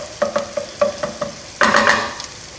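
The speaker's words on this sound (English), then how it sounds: "spread the chorizo out in the pan, kind of spread it around" Chorizo spread around a frying pan gives a few scraping stirs, then a steady close sizzle swells as the meat settles against the hot surface.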